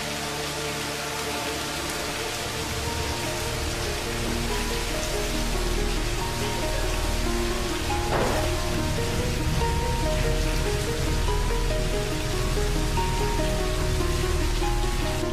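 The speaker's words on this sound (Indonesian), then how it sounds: "Apalagi hujan seperti ini, Bu." Heavy rain pours down in a steady, dense hiss and patter that stays loud and even throughout, with no voices over it.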